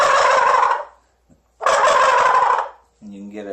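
Primos shaker turkey call shaken to imitate a jake gobble, two loud, close rattling gobbles separated by a short pause, followed by a brief voiced tail at the end.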